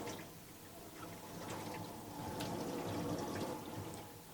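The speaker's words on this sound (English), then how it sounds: "you can see water already coming down" Water trickling and dripping from a failed tiled shower drain into the trap and drain pipe below, with water damage around it; a steady close, soft pouring trickle with scattered drips throughout.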